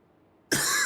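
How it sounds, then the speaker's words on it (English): A person coughing hard during a late-night game session: after near silence, one sudden loud, harsh cough bursts in close to the microphone and carries on to the end. "I need to cough my lungs up."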